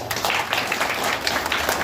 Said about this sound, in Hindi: आप लोग तालियां बजाएं इनके लिए